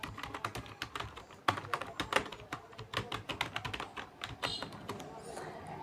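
Rapid, uneven keystrokes clatter on a computer keyboard as a page title is typed, close and crisp, in bursts with short pauses.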